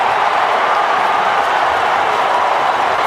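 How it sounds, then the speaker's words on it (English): A stadium crowd cheers at the Cotton Bowl during an Oklahoma vs Texas football game, a dense, steady roar that holds at full volume throughout. "Listen to that cheer."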